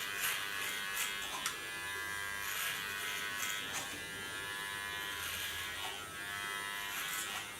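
Electric hair clippers buzz steadily and close while cutting a blunt bob hairstyle, with faint snips and brushing bursts recurring through the steady drone, and no talk.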